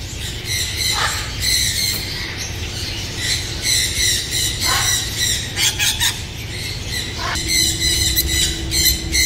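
Caged mynah birds at a bird and animal market squawking loudly and close, harsh repeated screeches and squeals in irregular bursts over a constant background hum.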